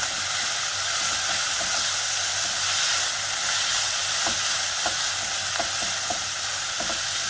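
Chowmein sauce base of red chili sauce and ketchup being stirred in a pan on low heat, a steady frying sizzle and hiss with soft intermittent scrapes and taps of the spoon.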